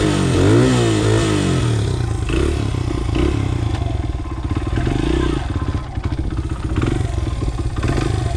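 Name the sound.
cold motorcycle engine starting and running with choke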